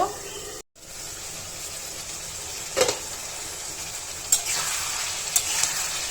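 Spice paste for a rohu fish head curry sautéing in a pan, a steady soft sizzle with a brief gap near the start and a few short stirring scrapes.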